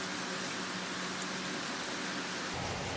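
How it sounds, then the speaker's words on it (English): Steady rain hisses as a continuous, even wash of noise in a home kitchen where ginger and garlic fish is being fried; there are no distinct drops and no talk. "Can you hear the rain?"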